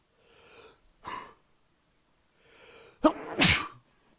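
Two sneezes from a person out fishing, each preceded by a soft breathy inhale; the second sneeze is louder and sharper, close and alone with no talking.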